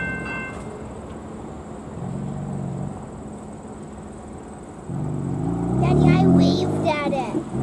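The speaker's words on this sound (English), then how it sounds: "Yeah, do you hear him toot at you?" A train rumbles past and sounds its horn in two long, low blasts, the second louder and closer, over a steady mechanical drone.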